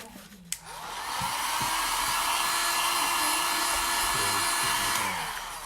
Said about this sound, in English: I just go ahead and blow dry it